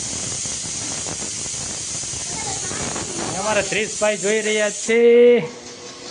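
A steady hiss of escaping steam runs under a man's speech, then a pressure cooker whistle rises in short, loud, squealing bursts.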